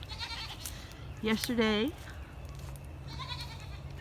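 Pregnant goats in barn paddocks let out a couple of loud, wavering bleats close by, preceded and followed by a person talking over a low steady hum.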